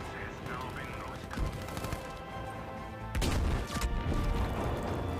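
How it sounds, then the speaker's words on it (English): In Battlefield V, a tank explodes nearby with a sudden heavy blast and crash that cuts through continuous battlefield gunfire and mechanical clatter. "a tank just blew up next to me"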